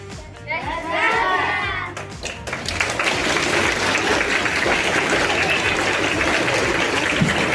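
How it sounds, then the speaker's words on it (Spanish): Children's voices come first, then an audience in a classroom-like setting breaks into sustained applause, a dense wash of clapping that holds steady to the end. "Ya vi que ya le dieron el aplauso a sus compañeros."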